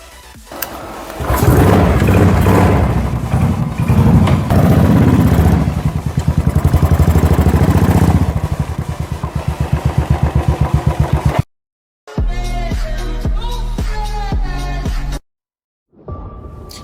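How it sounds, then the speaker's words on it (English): A motorcycle starts up and rides off, its engine running loud and steady with rising revs and a pulsing idle. Later passages are cut short by sudden dropouts. "Today I'm taking my bike out. So let's start this thing and go to the gym"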